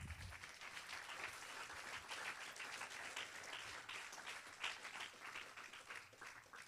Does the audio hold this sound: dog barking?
no